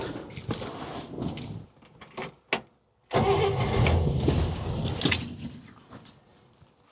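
A 1961 Buick engine is cranked over: irregular clanks and rattles, then a loud continuous churning roar as it catches, with faint bird chirps in the background.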